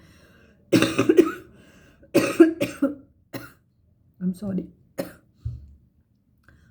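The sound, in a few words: coughing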